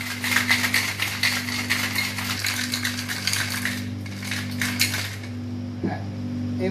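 Iced coffee shaken in a covered cocktail shaker, ice rattling in a fast, steady rhythm, loud and close, over a low constant hum before the shaking slows and stops.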